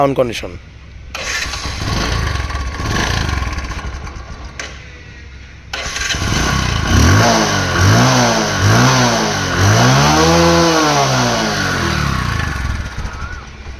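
A Bajaj Discover 125cc motorcycle with a white engine is started and revved several times, rising and falling in repeated close, loud swells after a quieter idle, with people talking around it.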